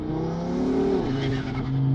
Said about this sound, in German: Wie man hört, sie quietscht jetzt schon dementsprechend leicht.